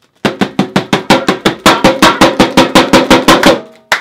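Rapid, evenly spaced metallic clanks ring out one after another, about five per second, loud and close, fading slightly at the end.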